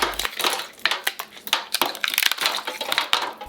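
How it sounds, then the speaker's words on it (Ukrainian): Ice cubes tumble and crunch into a metal gastronorm container of water, a dense run of clattering, cracking impacts over several seconds, close and fairly loud. "у гастроємність з водою додаємо кригу"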